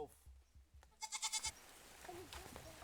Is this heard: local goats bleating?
yes